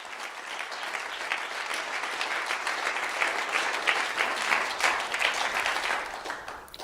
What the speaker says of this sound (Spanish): Fuerte el aplauso si es para Él.